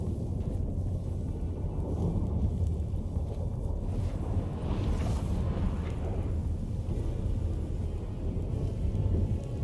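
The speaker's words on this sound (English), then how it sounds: "That a storm? Wind's howling." Howling wind and a rumbling storm in The Witcher 3 roar as a constant, dense low-pitched wash of noise that holds steady throughout, with no voices.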